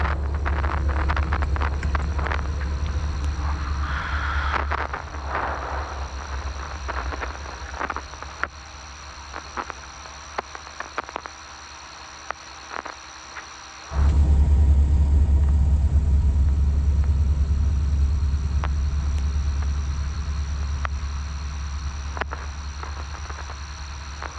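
Helicopter cockpit during shutdown with the rotor brake applied: a heavy, steady engine and rotor rumble with a faint whine, suddenly louder and fuller about halfway through and then holding steady.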